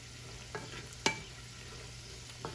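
Homemade chicken pickle cooking in plenty of oil, a low steady sizzle with a few soft stirring scrapes and clinks of a spoon against the pan, close and fairly quiet.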